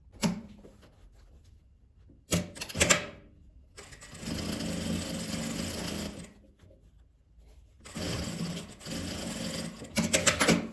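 A sewing machine stitches the side seams of a multi-pocket toiletry bag in two long, loud, steady runs, separated by quiet handling and preceded by a few brief starts and clunks.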